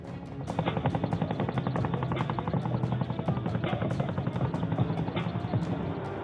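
Rapid rhythmic blade chop of an Indian Air Force Chinook helicopter, a fast steady thudding pulse over a low rotor drone, fairly close and continuous, with occasional sharper transients.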